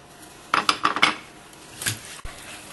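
A utensil stirs béchamel with shrimp bisque in a pan, several quick metallic scrapes and clinks close up, then a pause and a single soft knock.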